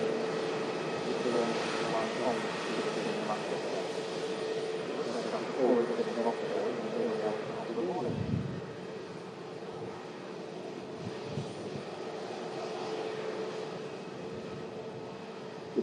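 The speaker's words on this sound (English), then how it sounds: "Airbus A320 Neo, following 1 hour 6 minutes of flight time, coming in from Paris Charles de Gaulle" An Airbus A320neo airliner arriving at Manchester Airport from Paris Charles de Gaulle, a steady, distant engine roar that swells and then eases as the jet passes, with some talk over it.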